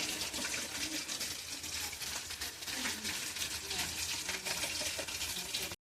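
Rice being stirred with rice powder in a pan, a soft steady scraping and sizzling texture with irregular stirring strokes, fairly faint and continuous, ending abruptly.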